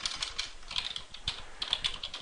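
Rapid, steady keystrokes on a computer keyboard as a file name is typed, a dense run of close, clear taps with no talking.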